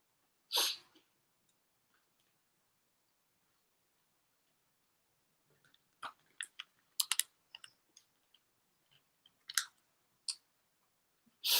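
Crunchy Hawkins Cheezies are chewed close to the microphone, giving sharp, irregular bursts of crunching after a single loud burst and a long quiet stretch.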